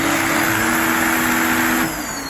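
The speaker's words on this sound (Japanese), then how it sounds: "お母さん掃除機かけるからどいてよ" A household vacuum cleaner roars continuously up close with a steady whine and broad hissing airflow, its pitch dropping slightly near the end as the load changes.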